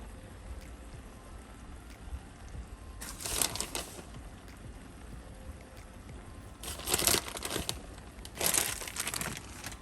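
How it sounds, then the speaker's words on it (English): Shredded cheese drops into a pan for chilaquiles in three brief rustling, crinkly bursts over a low steady background hiss. "I'm just going to finally just add my cheese"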